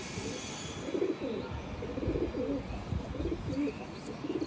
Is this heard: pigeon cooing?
yes